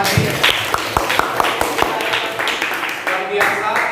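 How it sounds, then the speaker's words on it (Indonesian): A classroom of students claps for Pak Jiri after he reads aloud, with scattered, uneven hand claps close by, mixed with chatter and a voice speaking over the clapping. "tepuk tangan untuk Pak Jiri"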